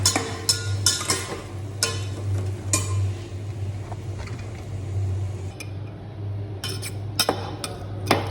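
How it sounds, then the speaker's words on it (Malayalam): Tomatoes and onions being sautéed in a pan, stirred with a utensil: sharp scraping clinks against the metal recur over a steady low hum, with no talk. "വാടിയ ഉള്ളിയിലേക്ക് അരിഞ്ഞു വെച്ച 2 തക്കാളി കൂടി ചേർക്കുന്നുണ്ട്. ഇതൊന്ന് നന്നായിട്ട് വഴറ്റണം."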